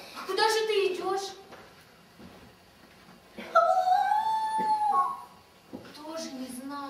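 A puppeteer imitates a dog at a puppet theatre show, voicing whimpering, rising howls and whining yips in two long drawn-out cries, loud and close with voiced tonal wails.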